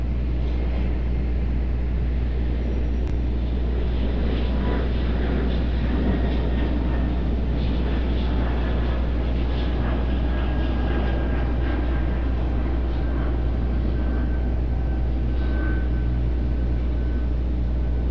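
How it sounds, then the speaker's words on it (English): Delta A220 airliner departing Raleigh-Durham airport, a loud, steady, broad jet engine roar that holds throughout at close range with no talk. "Delta A220 headed back to Boston"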